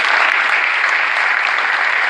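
Crowd applause at the prize-giving ceremony of a first-edition Atlantic sailing race, a loud, continuous and even patter of many hands with no break across the short stretch.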